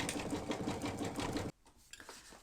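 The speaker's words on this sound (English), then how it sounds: "it's stitching very, very nicely, so I'm going to finish stitching this off camera" An embroidery sewing machine stitches a mug rug in the hoop with Madeira thread, a fast steady mechanical rattle close up that cuts off abruptly partway through, leaving only quiet room sound and a few faint clicks.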